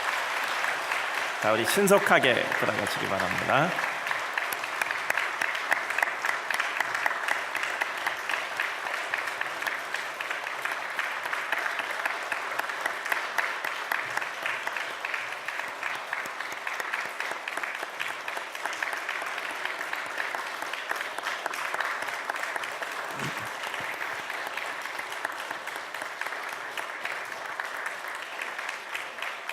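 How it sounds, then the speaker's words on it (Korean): A church congregation applauds steadily for half a minute, a dense sustained wash of clapping from the pews with someone speaking over it near the start. "박수로 한 번 더 격려합시다."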